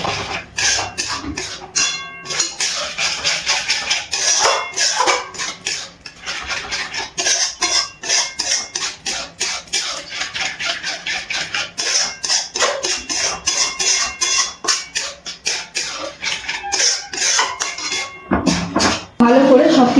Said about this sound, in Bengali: এবার সব কিছু খুব ভালোভাবে মিশিয়ে নিচ্ছি।